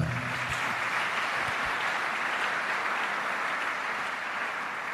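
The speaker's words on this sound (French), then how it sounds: "Acclamons le Seigneur." A church congregation applauds during a pastor's sermon, a steady, dense wash of clapping that carries on for several seconds without a break.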